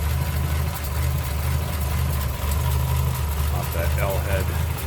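A 1937 Lincoln Zephyr coupe's V12 L-head engine idles smoothly with a steady low rumble, heard close up under the car while someone talks over it.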